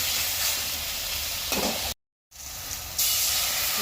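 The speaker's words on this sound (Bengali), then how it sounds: "এবার আমি এর মধ্যে খুব সামান্য জল দিয়ে দেবো" A little water goes into frying spice paste for a Bengali rita fish curry, a close hissing sizzle that briefly cuts out and then comes back in a louder burst of steam, no talk.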